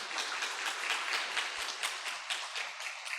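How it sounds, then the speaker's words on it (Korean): A church congregation at a Sunday service claps to welcome a newly arrived pastor. The applause is brisk and continuous, of moderate loudness, with individual claps audible in a steady patter. "우리 함께 인사할 때 박수로 환영해 주시길 바랍니다."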